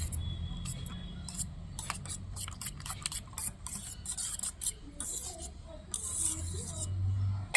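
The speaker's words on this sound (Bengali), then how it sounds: "ধনে পাতা দিয়েও ফেঁটিয়ে নিচ্ছি" Eggs whisked with coriander leaves in a bowl, giving a quick, close run of scraping and clicking strokes that thin out into quieter stirring and rubbing.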